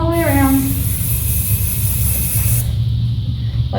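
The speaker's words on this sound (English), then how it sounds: "I'm just going to take my hairspray and I'm going to spray her whole head." Close, loud hairspray hisses in one continuous blast for about two and a half seconds over a head of curled hair, then cuts off, leaving a quieter tail.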